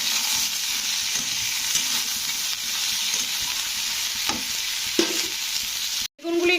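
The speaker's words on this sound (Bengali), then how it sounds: "বেগুনগুলো দিয়ে একটু আলুর সঙ্গে ভেজে নিতে হবে" Home-grown eggplant frying with potatoes in a pan, a dense, close sizzle with stirring scrapes and spoon knocks, briefly cut off near the end.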